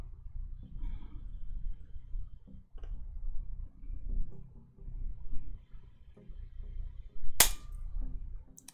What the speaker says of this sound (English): That's the pliers snapping off.